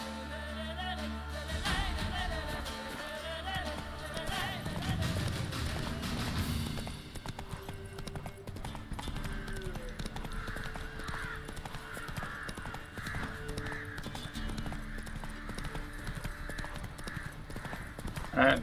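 Hooves of the horse Roach clip-clopping at a gallop in The Witcher 3, a steady rapid rhythm under game music and ambience, fairly faint, with a brief whinny early on.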